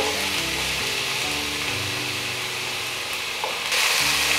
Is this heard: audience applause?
no